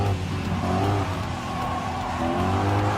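Racing car engines from Gran Turismo Sport, Gr.4 cars including a Volkswagen Scirocco during an overtake, roar and rev steadily up close for a few seconds with no talking.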